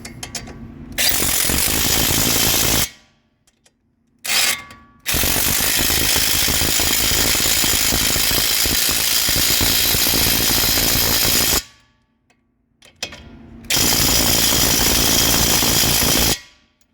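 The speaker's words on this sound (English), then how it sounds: "Get your favorite impact ready and set it on kill." Impact wrench tightening the bolts on a strut of a 2017–2019 Chevrolet Volt, firing in long, loud, continuous bursts separated by short silent gaps.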